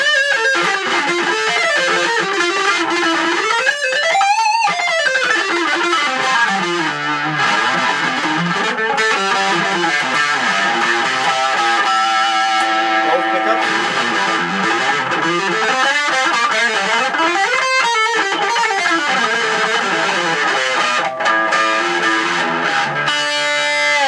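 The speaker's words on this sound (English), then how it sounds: "Let's put some distortion on and really get this thing to cook." Restored Jackson Kelly electric guitar played through heavy distortion on the neck pickup, tuned down a step, sustained saturated riffs with sweeping bends, loud and continuous with no talking.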